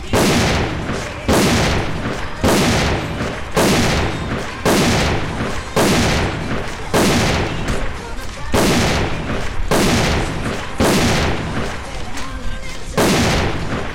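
SV98 sniper rifle from AVA firing about a dozen evenly spaced, loud single shots, each with a sharp crack and short decaying tail, with someone talking quietly between them.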